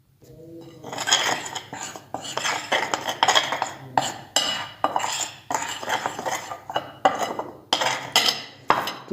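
A spoon clinks and scrapes against a bowl as spice masala is mixed for potato chips, making a rapid, irregular run of metallic knocks and scrapes, close and fairly loud, with brief pauses between strokes.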